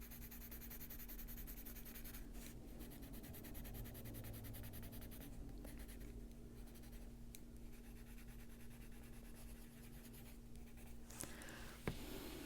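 Quiet, steady scratching of a Chromaflow colored pencil shading on paper, continuous and soft with a faint background hum.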